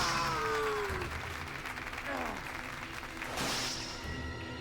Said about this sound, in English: That applause timing from that donation!